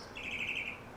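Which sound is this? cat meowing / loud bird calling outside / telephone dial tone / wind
loud bird calling outside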